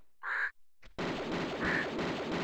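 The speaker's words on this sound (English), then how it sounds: "keep hearing that bird still" A single short bird caw rings out in Tomb Raider 2's Tibet area, followed after a brief gap by a dense, loud wash of noisy game sound.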